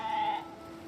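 A single short bleat from a goat in a horse-riding video game, clear and close, lasting under half a second before fading into the game's ambient background.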